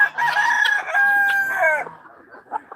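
Silkie chickens in a pen crow nearby, a long, loud, wavering call that breaks off into softer clucks at the end.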